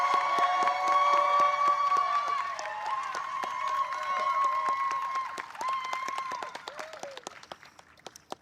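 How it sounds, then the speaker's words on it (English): A ceremony audience at the White House applauds the National Teacher of the Year. Claps and cheers mix with ringing tones, then thin out into scattered individual claps toward the end. "Let's give Tabitha a loud round of applause."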